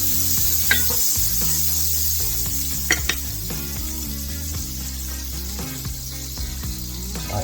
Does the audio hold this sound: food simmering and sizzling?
yes